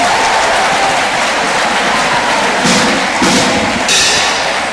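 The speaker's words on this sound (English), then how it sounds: "Ladies and gentlemen," A colloquium audience gives a round of applause, a loud, dense, continuous wash of clapping from a large crowd with a few louder bursts and thuds near the end.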